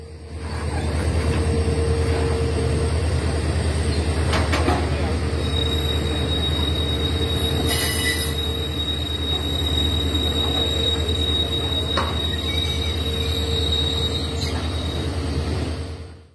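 The Sealdah–Silchar Kanchanjunga Express runs on a hill-section railway track, a loud, steady, close rumble of wheels throughout with thin high squealing tones over it.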